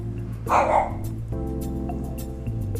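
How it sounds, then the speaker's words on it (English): A dog barks a few times nearby, sharp yips over a low steady hum, then a brief whimper-like note. "my dogs are nuts. They hear the slightest sound and they just start barking at everything"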